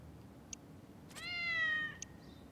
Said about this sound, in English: The true culprit is... A cat. That's right. It was a cat.